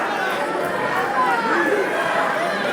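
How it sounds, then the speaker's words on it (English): A wrestling crowd jeers and murmurs at Chris Hicks during an IHW Unstoppable show, a steady, dense wash of many voices with no clear break. "The crowd laying into Chris Hicks."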